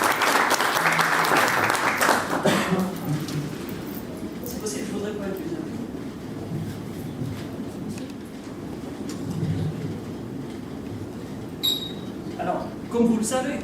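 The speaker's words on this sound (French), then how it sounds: "Donc, on applaudit sérieusement Monsieur Bassem." Audience applause at a science talk finale rises loudly, then gives way to a long stretch of talk with lingering scattered clapping and room noise.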